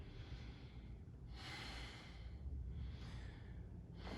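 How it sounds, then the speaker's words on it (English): Slow, deep breaths during a bodyweight yoga exercise, drawn close to the microphone as soft airy swells roughly every second and a half, with no talking over them. "Take a big breath in, pressing the small back in the floor."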